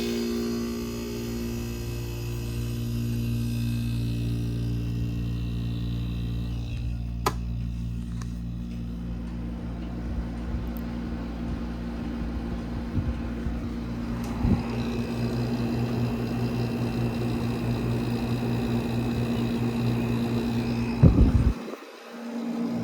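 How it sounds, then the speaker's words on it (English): A vintage Bendix reciprocating air conditioner compressor runs with a steady low mechanical hum and drone, with faint clicks along the way, then a sudden louder thump and rattle near the end as it shifts. "we're going to turn up the thermostat and start the compressor. This is a Bendix recip"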